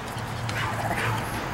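Two happy pet dogs excitedly whimper and yip near a door, a close, busy burst of whines and short barks with a person speaking over them.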